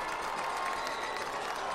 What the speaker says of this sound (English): Elijah Frazier's pumping up this Piqua crowd